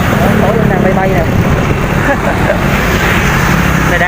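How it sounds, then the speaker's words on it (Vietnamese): Simson S51 motorcycle engine running steadily while riding on a highway, a loud continuous drone with wind rush close to the microphone, no clear speech. "Đây vẫn đang nổ máy nha bạn"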